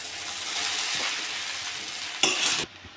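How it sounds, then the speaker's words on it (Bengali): Chow mein being stirred in a pan after soy sauce and tomato sauce are added, a steady close sizzle with scraping stir strokes, a brief louder clatter near the end, no talking. "টমেটো সস দিয়ে দেবো, এটা ভালো করে নেড়ে চেড়ে নেবো।"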